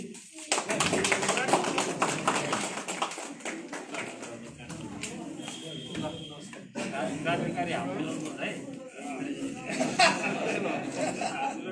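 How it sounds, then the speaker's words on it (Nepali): Sustained applause from an audience at an oath-taking and handover ceremony for newly elected office bearers, dense clapping mixed with crowd chatter and murmuring throughout. "अलिकति ताली बजाएर रोनक बढाइदिनु"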